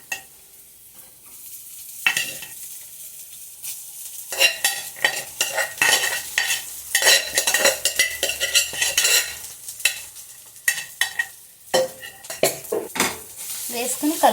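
Egg fried rice is stirred and tossed in a pan as an evening snack, with irregular metallic scrapes and clinks of the utensil against the pan over a soft sizzle, getting busier and louder after a quiet opening, with no talking.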